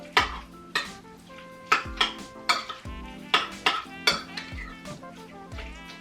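A spoon stirs mashed rutabaga in a pot for keto mashed potatoes, making a steady series of rhythmic metallic scrapes and clinks, close and moderately loud, with no talk.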